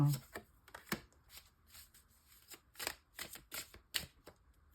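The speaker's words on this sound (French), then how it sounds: "on va prendre 3 cartes pour les célibataires" Tarot cards drawn and slapped down from a deck in a series of crisp, close slides and taps, spaced irregularly, quiet and without talk over them.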